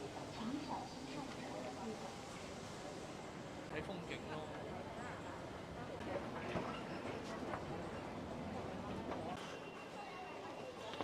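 A train rumbles and clatters along its rails, faint and muffled, while people talk quietly nearby.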